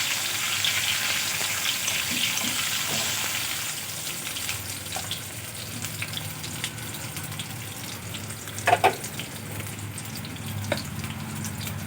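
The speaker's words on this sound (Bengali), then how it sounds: "আলুগুলো লাল করে ভেজে নিতে হবে।" Potatoes frying in hot oil in a kadai, being browned for an egg omelette curry, give a steady, close sizzle throughout, with a brief clatter near the end and no talking.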